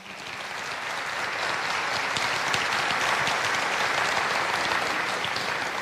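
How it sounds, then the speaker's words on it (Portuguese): A church congregation at a Thursday worship service breaks into full, dense applause that swells in the first second and then holds steady and loud throughout, with no talking. "Vamos aplaudir essa palavra."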